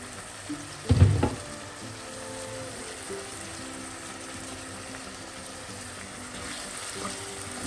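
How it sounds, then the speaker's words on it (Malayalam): Potato masala curry sautés over a low flame in a covered pan: a brief clatter near the start, then a soft, steady sizzle that carries on evenly. "ലോ ഫ്ലെയിമിൽ നമുക്ക് അടച്ചു വെച്ച് ഒരു രണ്ട് മിനിറ്റ് വഴറ്റാം"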